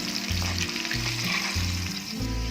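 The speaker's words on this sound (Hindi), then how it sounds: "ये देखिए अभी हो रहा है फ्राई" Chicken deep-fries in hot oil with a dense, bubbling crackle and sizzle, broken by regular low thumps and stirring sounds in an even rhythm.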